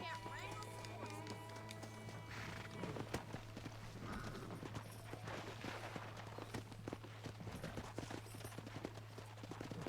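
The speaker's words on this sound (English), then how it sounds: "Let's see if we can't wrangle some horses." Hooves in Red Dead Redemption clop rhythmically over a steady hum and mixed ambient noise, a horse trotting along at a moderate pace.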